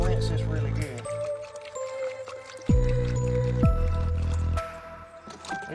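Water runs and sloshes while clay is rinsed out of a gold pan, a steady close pouring and swishing with splashy gurgles, under a man's speech.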